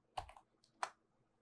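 A couple of soft computer keyboard keystrokes, faint and isolated, as a command is typed in a quiet room.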